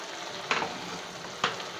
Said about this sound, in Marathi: आपल्याला ही अंडी आता हलक्या हाताने परतून घ्यायची आहे